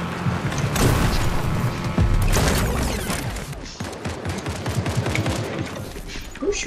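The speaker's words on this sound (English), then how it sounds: "Who's shooting at us?" Rapid bursts of video game gunfire in Fortnite, dense and loud, with booms and clattering impacts mixed in, fairly close.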